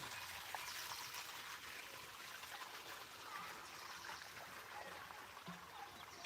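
Water from a farm pump set flows and splashes steadily in a continuous, hissing rush, fairly faint and unchanging throughout, with no voices.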